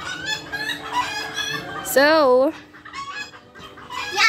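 Chickens cluck and one lets out a loud wavering, crow-like call at close range amid other fowl sounds, with a person speaking briefly around it.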